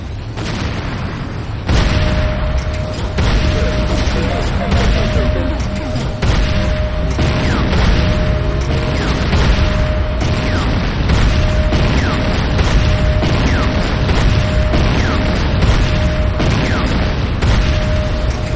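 Rapid, heavy explosions from an attack on an airstrip in the Renegade video game, repeated booms and blasts layered densely and loud throughout with a sustained tone under them.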